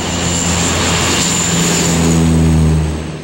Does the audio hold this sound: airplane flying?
yes